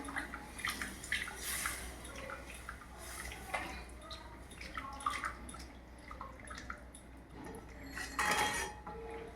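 Water poured into a pan of Bengali dhokar dalna curry, a steady wet splashing and trickling with occasional clinks of utensils against the pot, close and moderately quiet.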